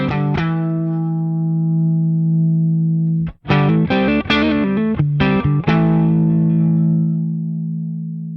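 An electric guitar played through a BOSS Katana Gen 3 amp on the clean amp type with a little reverb: long ringing sustained chords, then a brief quick run of picked notes, then another chord left to ring out. It is loud and close, with no talking.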